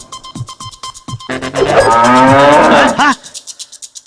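A bull linked to jallikattu bull-taming lets out a single long, loud, drawn-out moo that swells and falls off, with rhythmic clicking and thumping before and after it.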